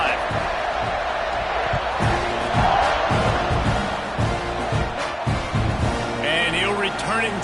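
A stadium crowd roars in a simulated football video game, a constant dense wash of cheering and whoops under a commentator's voice, with brief thumps and swells throughout.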